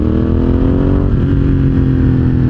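A Ducati Hypermotard 1100 EVO SP engine pulls steadily in fourth gear, a loud, continuous close-up thrum with low harmonic drone and no speech.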